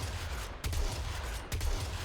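Two heavy shotgun-style blasts from the Corinth Prime in Warframe, spaced about a second apart, each a sharp broadband crack with a deep booming tail over a constant low rumble.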